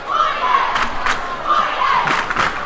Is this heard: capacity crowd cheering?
yes